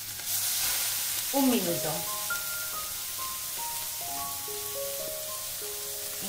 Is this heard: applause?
no